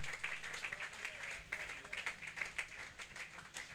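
A church congregation claps at a steady, fairly even rhythm, sounding a little distant and faint, with some voices mixed in among the hands.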